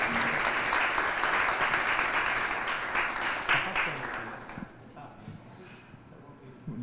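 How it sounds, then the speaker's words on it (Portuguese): An audience at a Pint of Science talk applauds to welcome a professor: dense, sustained clapping that tapers off and fades out after about four and a half seconds. "Senhoras e senhores, uma salva de palmas para o professor Renato Viana Correia Casarim."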